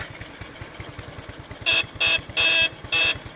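A classic Honda Super Cup motorcycle horn honks four times in short bursts, loud and close, over a steady idling engine.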